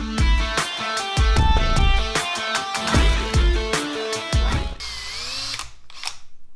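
A power drill whirs loudly in several short bursts separated by brief pauses while drilling out a rivet on a Squarebody truck's wing window, then winds down to a fading whine.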